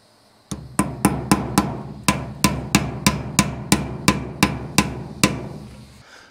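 A hammer bangs on a wooden barn while carpenter bee traps are fixed in place: about fifteen loud, sharp, evenly spaced blows, close up, with no talking.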